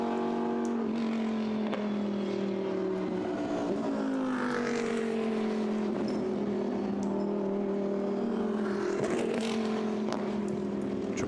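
Lamborghini Blancpain Super Trofeo race cars hold steady on the grid at Monza, a continuous droning chorus of engines with slowly shifting pitch, moderately loud and with no talk over it.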